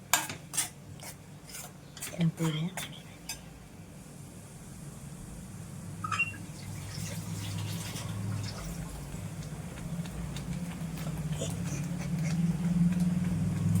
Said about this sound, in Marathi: व्यवस्थित परतला, व्यवस्थित कांदा भाजून घ्यायचं, टॅमॅटो पण भाजून घ्यायचं, परतून द्यायचं.